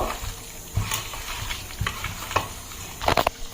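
Chicken leg pieces are stirred together with spices in a pan, giving soft irregular scrapes and wet clacks over a low sizzle, close by and with no talking.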